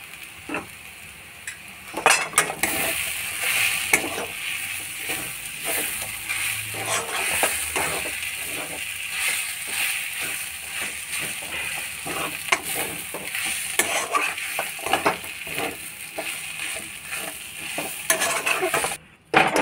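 Grated potato stirred into a sizzling pea chop filling in a pan, with steady frying hiss and repeated scraping stir strokes of a utensil against the pan throughout, fairly close, no talking.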